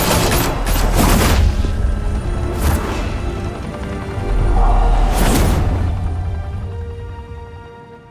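Gunfire in a Telltale Batman game as gang members open fire in Gotham, loud bursts of shots with booming impacts, several volleys close together and then a fading rumble.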